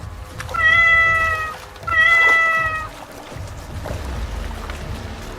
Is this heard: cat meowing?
yes